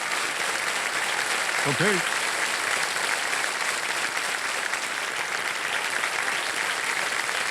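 Dense, sustained applause from a TV quiz show studio audience, loud and even throughout, with a brief spoken word over it early on.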